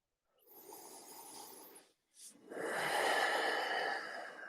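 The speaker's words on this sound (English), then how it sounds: "I'd like to start with a few kind of deep breaths." Slow deep breaths taken in a calm guided meditation session, a long steady inhale followed after a short pause by a fuller, louder exhale, close and breathy with no talking.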